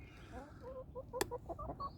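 A backyard hen clucks softly inside a coop, giving a quick series of short, close, low-volume clucks and murmurs.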